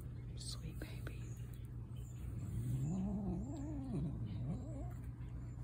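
A cat lets out a drawn-out, wavering meow over a low background hum, faint and close, with soft rustling before it.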